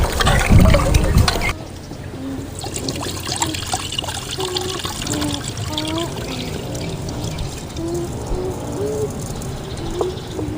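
Water is poured over foxtail millet in a village kitchen, a loud splashing burst at first, then a lighter steady trickle with faint bubbling continuing under a quiet voice.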